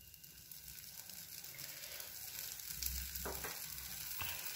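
Dosa cooking in oil on a hot pan, giving a soft steady sizzle and crackle, fairly quiet and close, with a couple of faint scraping touches near the end and no talking.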